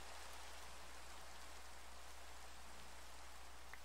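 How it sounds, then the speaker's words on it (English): Steady rain falls in a Minecraft-style video game, a dense, even hiss of raindrops that continues unbroken throughout, with no talk. "It's raining in real life and in here."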